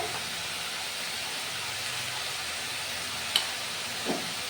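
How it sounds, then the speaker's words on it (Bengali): Ginger garlic paste fries in a pan with a faint, steady hiss of sizzling and a couple of light clinks from the spoon. "আদা রসুনের পেস্ট দিয়ে দিচ্ছি এক চামচ বড় চামচে"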